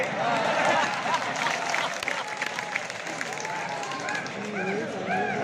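Audience at an all-India poetry recital (kavi sammelan) in Garoth clapping in a broad, steady wash of applause that stays loud for the whole stretch, with a voice speaking over it near the end.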